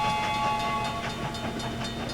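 A train rolls along in the Lego City Undercover video game with a dense mechanical rumble and rhythmic clatter, carrying a sustained whistle-like tone, loud and close throughout.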